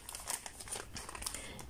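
A plastic bag full of embroidery threads crinkles and rustles close up, quiet irregular crackles and crisp crumpling bursts with no speech.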